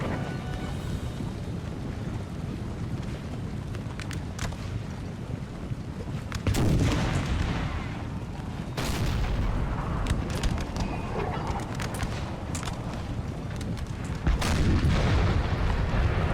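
Artillery canister shot firing in the Napoleon Total War video game, deep booming blasts landing over a continuous roar of battle noise, several heavy hits spaced across the stretch with no talking.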